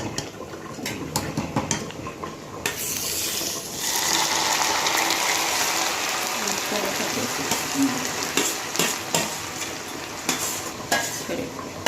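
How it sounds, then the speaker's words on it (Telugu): Oil sizzles loudly as tempering spices and seeds fry in a pan, with scattered clinks and scrapes of a spoon; the hiss swells after a few seconds and stays steady. "పోపు వేగింది"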